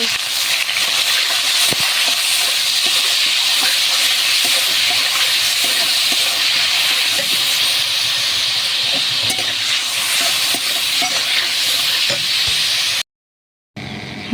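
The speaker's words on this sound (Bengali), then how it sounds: "অল্প একটু লবণ আর অল্প একটু হলুদ দিয়ে চিংড়ি মাছটা ভেজে তুলে নেব" Shrimp frying in oil in a pan with salt and turmeric, giving a loud, steady, close sizzling hiss with no talking and a short silent gap near the end.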